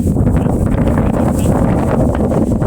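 Strong wind blows across a rocky hilltop during a trek on Renga Malai, buffeting the microphone with a loud, continuous roar and no voices.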